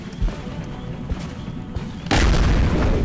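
A shotgun blast in XCOM: The Long War lands as a sudden loud boom that cuts in after low, rumbling game ambience and then holds as a sustained roaring wash.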